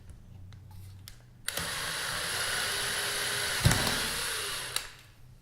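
A power drill with a 1/4-inch bit whirs steadily for a few seconds drilling into a wooden door at close range, with a brief clunk midway and quiet handling noises before and after.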